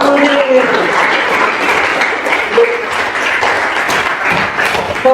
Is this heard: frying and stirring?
no